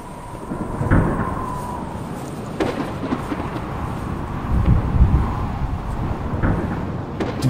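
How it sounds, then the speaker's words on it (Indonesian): Thunder rumbles over the slopes of Mount Slamet during the rainy season, deep rolling peals with a few sharper cracks under steady rain and wind, loud and sustained across the whole stretch. "kita udah denger gemuruh petir"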